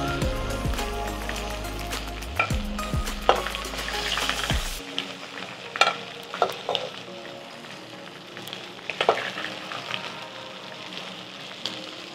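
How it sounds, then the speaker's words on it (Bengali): Chicken pieces fry in hot oil in a pan, a steady close sizzle with scattered pops and utensil clicks; a loud low rumble fills the first few seconds before the frying continues alone. "আমার মুরগিটা খুব সুন্দর রং এসেছে, ভাজা হয়ে গেছে"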